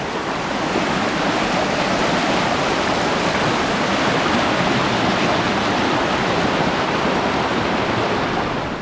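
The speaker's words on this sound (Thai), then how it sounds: "น้ำไหลแรง" Fast-flowing stream water rushes in a loud, steady roar that never lets up, with no other sounds standing out.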